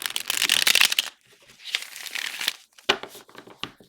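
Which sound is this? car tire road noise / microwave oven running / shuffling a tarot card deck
shuffling a tarot card deck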